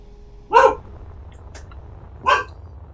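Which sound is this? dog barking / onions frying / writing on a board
dog barking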